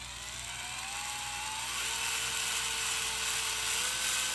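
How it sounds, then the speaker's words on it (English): Power driver screwing a screw into a Traxxas X Maxx RC truck shock, one continuous close whirring drone that slowly rises and holds steady, with no voices. "I got the bottom and going to put the screw right back in there."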